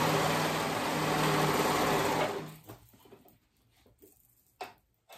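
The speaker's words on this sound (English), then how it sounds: "I'm gonna go ahead and sew those sides and then we'll move on." An electric sewing machine stitches the sides of a skirt and ruffles, running in a loud, steady, close whir for about two seconds, then stopping, leaving faint handling noises.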